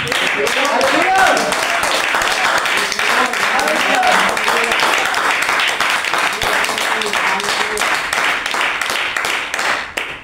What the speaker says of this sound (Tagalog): Ipalakpak ang ating mga kamay.